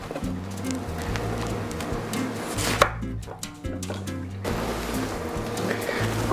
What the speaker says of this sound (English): I'm also going to cut up this half onion